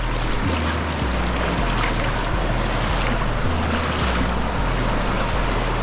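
Huai Nueng waterfall in Prachantakham, Thailand, pouring clear water in a steady, loud broadband rush, with continuous roaring flow close by and low rumbling underneath, no voices.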